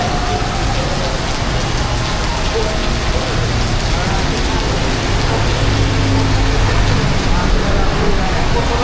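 Heavy rain pours steadily and loudly throughout, a dense continuous hiss of drops hitting surfaces close by.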